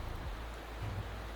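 Steady retroact rain in Wuthering Waves, a dense hiss of rainfall that holds even and continuous throughout, with no voices over it.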